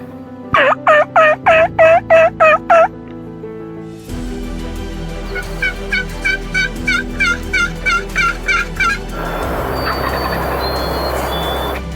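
A male wild turkey gobbles repeatedly in rapid rattling bursts, loud and close at first, then a second, fainter series of gobbles follows over a steady background rumble.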